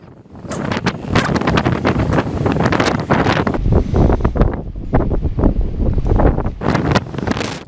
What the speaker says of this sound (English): We had a strong southwesterly wind.